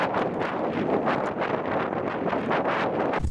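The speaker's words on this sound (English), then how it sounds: "It's just the wind is kind of unbearable." Strong wind roars and buffets the microphone continuously on the Maine coast near a lighthouse, a loud, gusty rumble with no voices.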